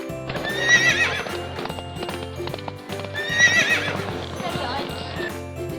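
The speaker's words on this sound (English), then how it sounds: "Horse, horse." A horse gives two loud, shrill whinnies a few seconds apart, with rhythmic clip-clop hoofbeats throughout, close by and unaccompanied by talk.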